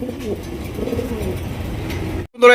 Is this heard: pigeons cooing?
yes